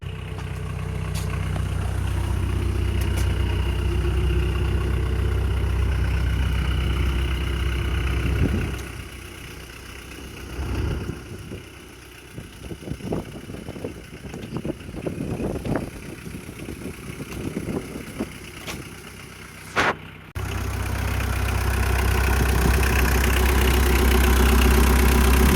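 A Mitsubishi Delica L300 Starwagon 2.5L turbodiesel idles with a misfire, a rough, lumpy low diesel rumble up close. Midway the steady drone drops away into scattered knocks and clatter, then the loud idle returns.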